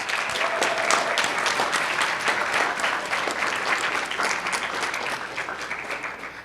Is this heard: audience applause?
yes